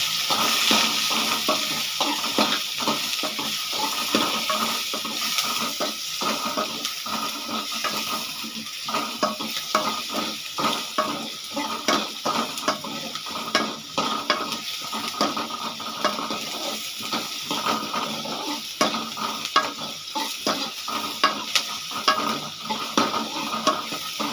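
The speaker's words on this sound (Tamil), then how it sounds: "வெங்காயம் லைட்டாக வதங்கட்டும்" Onions sauté in a pan with a continuous frying sizzle and repeated rhythmic scraping and stirring against the pan, steady and close throughout.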